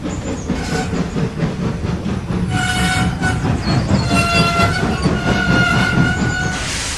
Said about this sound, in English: At last, another train came.